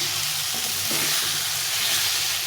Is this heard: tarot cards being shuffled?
no